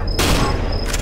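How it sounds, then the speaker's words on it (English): A single heavy, booming gunshot from a slow but powerful gun in the horror game Cry of Fear, loud and close. It rings out alone with a short tail. "I know this gun is not very fast, but dear Jesus, is it powerful"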